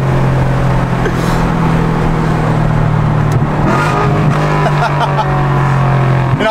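Subaru STI engine droning steadily at close range as the driver downshifts and revs it, the engine note rising and shifting midway through, with road and cabin noise throughout.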